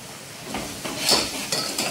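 Chopped medium onions with salt sizzle softly in a pan for a mutton curry, while a spoon scrapes and clinks against the metal as they are stirred.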